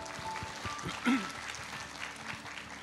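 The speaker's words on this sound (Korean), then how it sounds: "우리 박수로 축하하겠습니다" Faint, scattered clapping from a church congregation celebrating a baptism during a Sunday service, soft and distant, with some background murmur.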